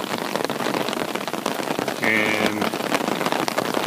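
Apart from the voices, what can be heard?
heavy rain falling on a park trail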